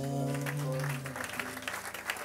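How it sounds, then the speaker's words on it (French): Congregation at a youth camp church service applauding and cheering for God, a dense wash of clapping over sustained music at first, thinning into scattered claps and voices toward the end. "Donnons à Dieu des acclamations"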